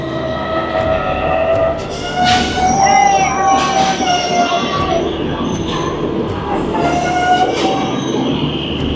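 Near Dum Dum Junction an early-morning local train passes close by, a loud sustained rumble of rolling stock with screeching wheel and horn-like tones rising and fading over it.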